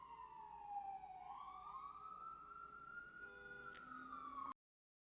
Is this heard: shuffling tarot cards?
no